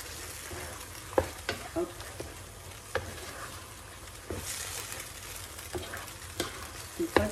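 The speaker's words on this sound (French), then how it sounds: "Et maintenant, je vais incorporer l'ail." Garlic frying in a pan of chicken sauté with mushrooms and spinach, a low steady sizzle under scraping stirs and soft clatter, a brief spoken interjection near the start, moderately quiet and close.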